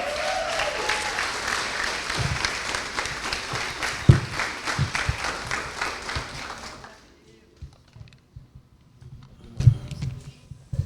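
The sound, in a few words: audience applause in church service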